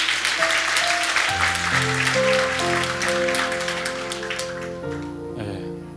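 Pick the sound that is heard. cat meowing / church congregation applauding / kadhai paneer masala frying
church congregation applauding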